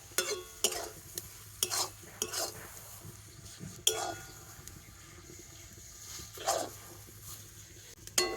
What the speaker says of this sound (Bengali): আর এইভাবে নাড়তে নাড়তে দেখবেন সুজিটা কিন্তু একটা সুন্দর ডো তৈরি হয়ে যাবে